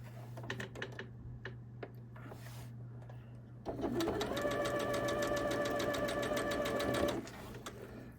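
A sewing machine stitches a bias-cut triangle seam in a quilt gem block, running steadily for about three seconds with a dense rapid chatter after quieter start-stop taps and handling noises.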